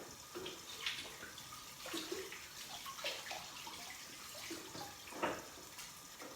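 Tap water running over a halved leek while the dirt is washed out in a kitchen, a steady faint splashing stream with occasional louder splashes, no talk.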